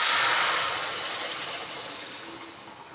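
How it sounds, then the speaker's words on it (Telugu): Tamarind juice poured into a hot pan of brinjal curry, a loud close hissing rush that fades gradually over three seconds, with no talk. "పులుసు దీంట్లో యాడ్ చేస్తాను"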